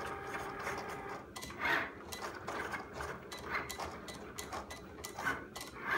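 Two Cricut Explore Air cutting machines, one an Explore Air 2 running in fast mode, cutting together: quiet, busy mechanical whirring and ticking with rapid back-and-forth carriage bursts, recorded close up.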